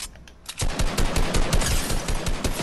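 Rapid automatic gunfire from Fortnite, loud close shots in a fast rhythmic burst that starts after a brief quiet moment and keeps rattling to the end.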